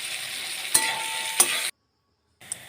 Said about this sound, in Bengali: এবার কেটে রাখা বেগুনটা দিয়ে দিলাম।